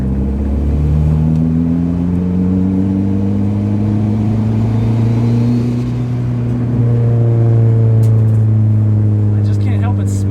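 A Mercedes car's engine revs and accelerates nearby in a steady, loud, rising drone with climbing harmonic tones, a second surge near the end, while people talk over it.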